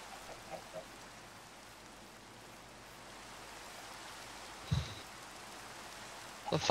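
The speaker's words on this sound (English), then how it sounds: "It's because it's raining." Steady rain falls in a video game, a continuous soft hiss across the whole stretch with a couple of brief louder knocks near the end and no talking over it.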